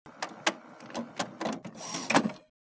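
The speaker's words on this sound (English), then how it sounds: "Wait for the printer to turn on and stop making noise." An HP Deskjet 3050 All-in-One inkjet printer powers up with a series of mechanical whirs, clicks and clunks in short bursts, close by, then falls quiet.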